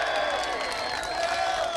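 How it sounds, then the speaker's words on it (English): Crowd applause and cheering at the awards ceremony of the Seafair vintage hydroplane race, a steady wash of clapping held at an even level throughout with no voices over it. "now you can applaud"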